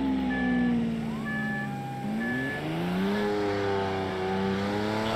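A police car in the BeamNG.drive video game wails with a siren, tones sliding up and down over a loud revving engine, steady and close with no talk.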